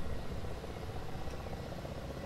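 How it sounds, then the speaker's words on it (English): Low steady rotor and turbine drone of a Ka-50 coaxial helicopter lifting off in the DCS flight simulator, a continuous rumbling hum at moderate level with no speech. "We'll see the helicopter take up and it naturally starts to go backwards."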